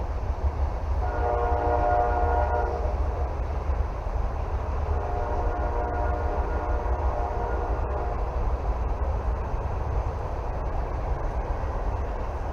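A train rumbles past at a distance, a steady low roar with a horn sounding briefly early on and again more faintly midway.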